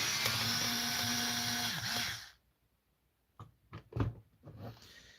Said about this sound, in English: let me use my comically long electric screwdriver here